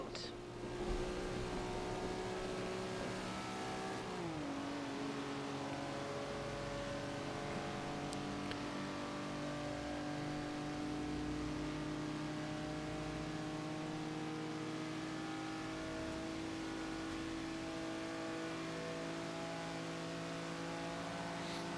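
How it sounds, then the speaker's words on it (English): Classic car in Forza Horizon 2 holds a steady droning engine note as it accelerates, with a gear change early on, then a long, even high-speed whine. "This car took a while to accelerate, but it's got some pretty darn good top speed for being a classic."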